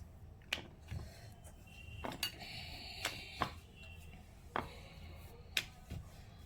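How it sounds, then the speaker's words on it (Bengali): A rolling pin works singara dough on a board, giving a series of light, close knocks and clicks at an uneven rhythm over a quiet kitchen background. "গোল একটা লিসি করে নিলাম এখন আমি বিলব"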